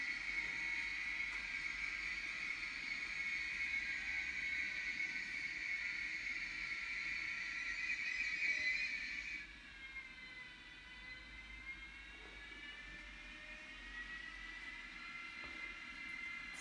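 Fleischmann Class 193 DCC sound model locomotive braking, a steady high electric whine that drops off sharply partway through, followed by quieter humming and motor tones, no talking.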